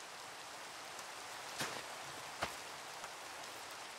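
Rain falling in a Minecraft-style crafting game, a faint, even hiss of steady rainfall with a couple of brief louder ticks and no talking.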